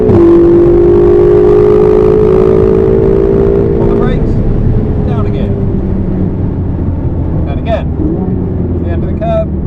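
Car engine at full power on the Silverstone straight, a loud sustained drone rising in pitch, then a gear change and more acceleration, with an instructor talking over it.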